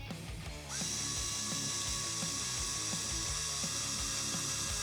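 A Fanttik Nano cordless power drill bores through half-inch-thick Schedule 40 PVC pipe. A brief quiet start gives way to a steady, close, high motor whine with grinding and cutting noise that runs continuously to the end, with no voices.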